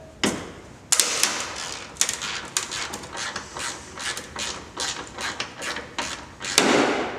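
Ratchet clicks loosening the lower mounting bolt of a Dee Zee tailgate assist shock on a 2015+ Ford F-150, a close rapid run of mechanical clicking in quick bursts, with two sharper clanks near the start and end.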